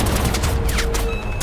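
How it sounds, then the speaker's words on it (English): A rocket fired in the video game Crysis, a brief loud roaring blast over dense low rumbling game noise, with a whooshing sweep partway through. "just shoot a rocket over this way."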